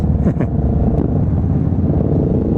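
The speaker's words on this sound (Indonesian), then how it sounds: "Wah, benar-benar lautan moge guys." A busy road full of big motorcycles on a Sunday-morning group ride, their engines making a dense, steady, close rumble with a brief rising rev early on.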